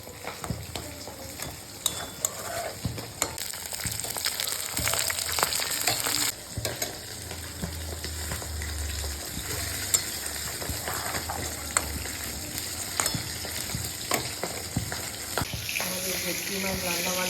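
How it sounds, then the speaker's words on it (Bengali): Vegetables and prawns sizzle and crackle steadily in a pan, with scattered clinks and scraping of stirring, plus some running water in the background. "একদিকে ভাজা হচ্ছে আর একদিকে ভাজা হচ্ছে"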